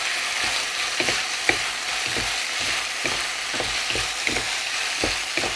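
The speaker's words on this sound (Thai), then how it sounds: "ผัดคลุกเคล้าให้เข้ากันให้สตอพอสุกนะคะทุกคน" Stink beans and minced pork stir-fried in a hot pan: a steady, close sizzle with rhythmic spatula scrapes and clicks against the pan, with no talking.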